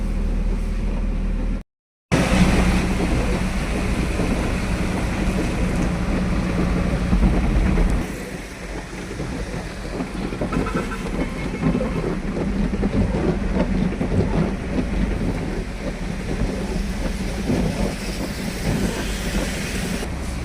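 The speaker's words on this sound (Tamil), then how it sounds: "மழை விடாமல் காலையிலேருந்து ஒரு 9 மணிலேருந்து நல்ல மழை பெய்யுது" Heavy continuous rain pours down steadily, a loud, dense roar of falling water that drops briefly to silence, then eases slightly in intensity while remaining constant throughout.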